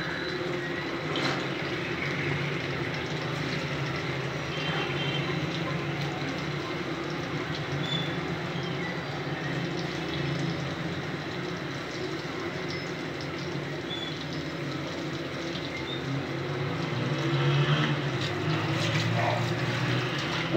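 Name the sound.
mince koftas frying in hot oil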